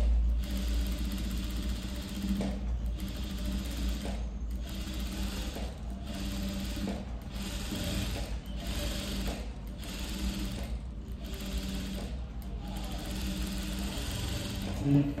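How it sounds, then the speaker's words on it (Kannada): A sewing machine runs steady top-stitching along a princess-cut blouse with a boat neck front and deep back neck, its motor whirring in repeated bursts with brief pauses between runs, close and fairly loud throughout. "ಹೊಲ್ಕೊಂಡ್ಮೇಲೆ ಇದನ್ನು ಮೇಲ್ ಸ್ಟಿಚ್ ಹಾಕ್ಕೊತೀನಿ."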